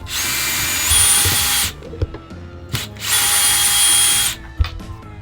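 A power drill backs out screws during the demolition of a van interior in two loud, sustained whirring bursts, separated by a short pause filled with clicks and handling knocks.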